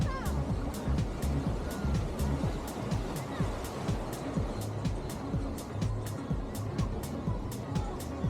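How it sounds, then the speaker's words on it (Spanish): Ocean waves at La Rompe beach in La Guaira, Venezuela, give a steady, loud, washing surf roar, with a faint rhythmic tapping underneath throughout. "Y aquí estaba José, también disfrutando de las olas y de este mar tan espectacular de Venezuela."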